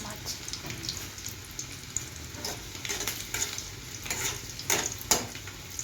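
Pabda fish and lightly browned onions frying in a pan, a steady low sizzle with occasional scraping stirs and clinks, close and moderately loud, no talk over it.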